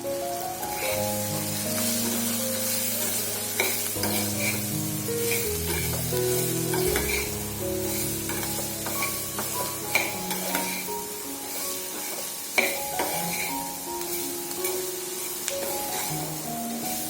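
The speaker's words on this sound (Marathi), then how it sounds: "त्यानंतर आपल्याला त्यामध्ये कट केलेली कारली घालून मिक्स करून घ्यायची आहे" Cut bitter gourd being stir-fried in a pan, a steady close sizzle with scraping stir strokes running throughout, no voices, while faint tonal music plays underneath.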